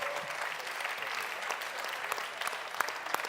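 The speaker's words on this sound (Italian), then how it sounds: "Allora, facciamo un applauso" An audience at a graduation ceremony for diploma graduates gives steady, fairly soft applause, a dense patter of many hands with a few sharper claps standing out near the end.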